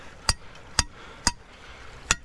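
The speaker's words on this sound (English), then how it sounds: "Now we're just gonna finish taking those down with a hammer." A hammer drives rebar anchor rods down into the ground at an otter crossing trap set, giving four sharp, separate strikes at uneven intervals with quiet gaps between them.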